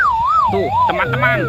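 A toy fire rescue helicopter gives off an electronic siren, a wailing tone that sweeps up and down. It plays loud and close for about a second and a half, with a person speaking over it.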